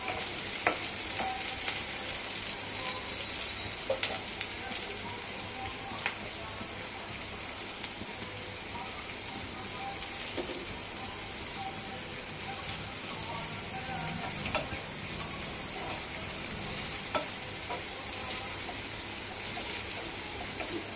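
Chopped onions with salt cook in a pan for a bottle gourd curry, giving a soft, steady sizzle with scattered light crackles and occasional stirring scrapes, fairly quiet and close, with no one speaking.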